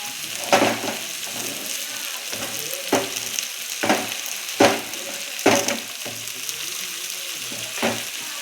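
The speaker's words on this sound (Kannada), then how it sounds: "ಈಗ ಇದನ್ನ ಸ್ವಲ್ಪ ಫ್ರೈ ಮಾಡ್ಕೊಳ್ಳೋಣ, ಜಾಸ್ತಿ ಫ್ರೈ ಮಾಡಬಾರ್ದು." Dill leaves are fried in a hot pan for rava upma: a continuous sizzle broken by a series of sharp, close stirring scrapes at irregular intervals.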